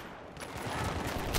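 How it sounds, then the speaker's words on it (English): Rapid gunfire crackles in a first-person shooter, a loud burst of overlapping shots building and continuing without pause. "I'm getting sniped at!"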